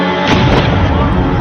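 A single loud gunshot from a film scene in which a man shoots himself, a sharp blast with a booming tail, heard alone.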